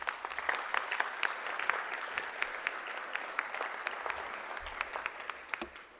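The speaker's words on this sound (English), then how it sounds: "Please give them a round of applause." Steady round of applause from an audience at an evening awards presentation, continuous dense clapping throughout with no talking.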